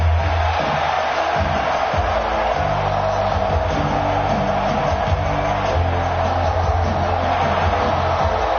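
Wrestling arena crowd in the WWE 2K17 video game, a continuous dense roar of cheering voices that stays loud and steady throughout, with a low game tone droning beneath it.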